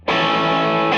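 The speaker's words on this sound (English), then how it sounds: "That to me right there actually gets a little bit of a clon style distortion." Electric guitar played through an Alexander Princess Clang distortion pedal, a sustained, loud overdriven chord ringing out alone with a thick, saturated tone and a fresh attack near the end.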